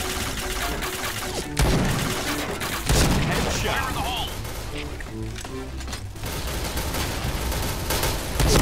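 Gunfire in the shooter game Point Blank, a few sharp shots and bursts mixed into busy game noise and music, moderately loud, with talk at times.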